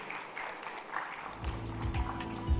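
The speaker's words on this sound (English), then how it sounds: "Can we give a huge round of applause as we welcome her on the stage" An audience applauds a panelist being welcomed onto the stage at a tech talent event, a soft, scattered clapping that swells slightly toward the end.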